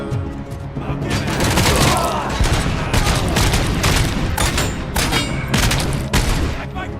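Submachine gun fire in the RoboCop video game: loud, sustained rapid bursts of shots with heavy impacts, dense and continuous throughout.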